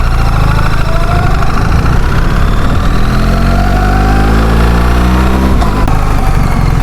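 A BMW motorcycle with an ASA robotised gearbox idles loudly up close under light throttle, a steady rumbling engine note that rises gently in pitch and then settles.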